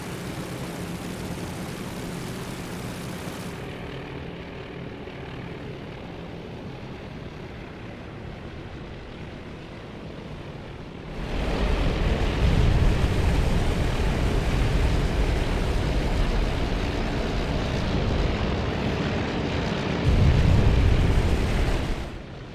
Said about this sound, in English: Flak right in their face. Now they have small arms fire.